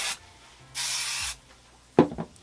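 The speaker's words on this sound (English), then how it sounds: "So what I like to do is spray it, kind of give it a little bit of hold" Hairspray misted over freshly curled beachy-wave hair with a curling iron, two short hissing bursts from the can, close and clear, followed by a soft handling rustle.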